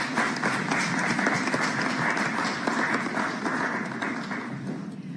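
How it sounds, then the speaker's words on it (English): Debate audience at a Jamaican political debate claps, a steady, moderately loud patter of many hands that gradually tapers near the end. "You can clap."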